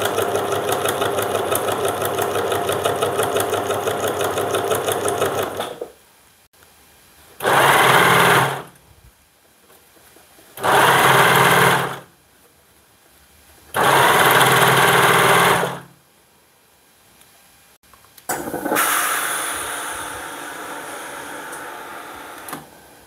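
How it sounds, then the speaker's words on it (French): A sewing machine and a serger stitch trouser seams. A long steady whir gives way to three short loud bursts of stitching separated by silences, then another sustained run, all close up with no voices. "refaire les coutures correctement à la machine à coudre, et je vais aussi surjeter les bords à la surjeteuse"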